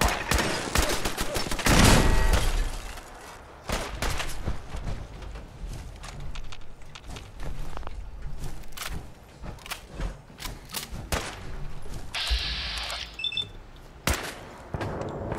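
Gunfire in the video game Fallout 4 comes as a rapid volley of loud, sharp shots, a dense burst early on followed by scattered cracks and short bursts, with a brief electronic beeping alarm near the end.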